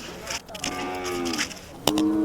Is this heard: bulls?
yes